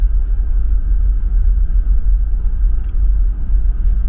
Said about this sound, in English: Right now I'm just driving through a main road through the middle of the place